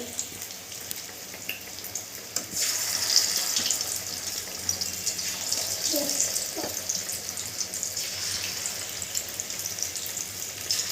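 Chicken pieces for pakora fry in a pan over a low gas flame, a steady close sizzle that swells louder after a couple of seconds and holds.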